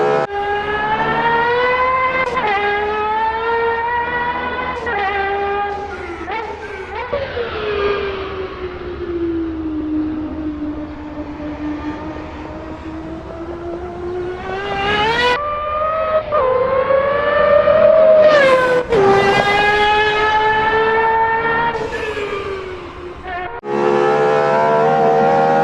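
A GMA T50 supercar is driven hard around the Nürburgring over the curbs. Its engine screams loudly and steadily, with pitch sweeping up and down through gear changes and throttle lifts, and no talk.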